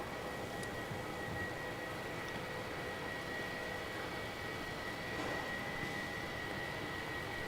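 Far off and faint, an Air New Zealand Airbus A321neo arriving at Melbourne Airport from Auckland gives a steady, breathy jet roar that holds evenly throughout.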